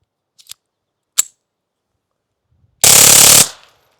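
A TX-22 pistol fitted with a 3D-printed silencer fires a few isolated sharp cracks, then one rapid burst that merges into a dense, loud roar for about half a second before fading.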